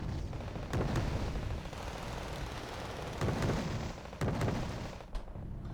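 Tank cannon and gunfire from a Leopard 2 in the strategy game Wargame Red Dragon, heard as distant, muffled booms and rumbling bursts recurring every second or so over a steady battle din, fairly faint.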